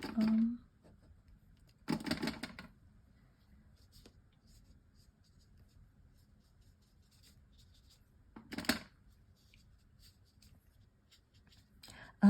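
Soft watercolor brush strokes sliding across paper while painting a summer wildflower meadow, heard as a few brief, quiet swishes spaced apart against near silence.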